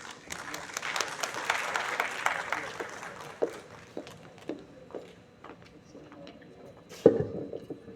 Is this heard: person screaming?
no